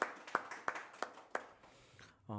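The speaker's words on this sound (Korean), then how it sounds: "우리 박수로 함께 또 감사 좀 드립시다" Faint, evenly spaced handclaps in a church, about five crisp claps in a steady rhythm before fading into quiet room tone and a closing hum.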